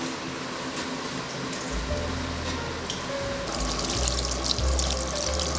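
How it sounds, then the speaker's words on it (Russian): Water poured into a kazan holding carrots, zucchini and other vegetables for Uzbek lagman soup, a steady close splashing and trickling that swells louder toward the end. "Снова доливаем воду."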